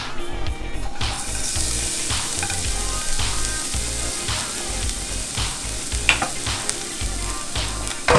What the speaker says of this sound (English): And shallots, garlic into a really hot pan.